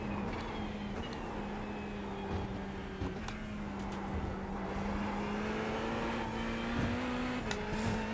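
A Ferrari GT3 race car engine in the iRacing sim drones steadily under throttle, holding a buzzing, even pitch that creeps upward, with a few faint clicks and no voices.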